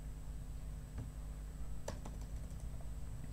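Keystrokes on a computer keyboard while a password is entered during a WordPress login, a series of light, irregular clicks clustered in short bursts over a steady low hum, with no talking.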